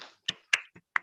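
Four sharp, isolated hand claps or snaps close by, quick and dry with short silences between them, no voices.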